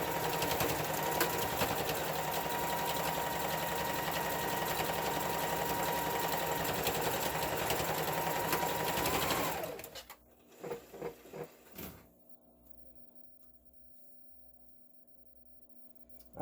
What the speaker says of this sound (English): now we're going to sew those down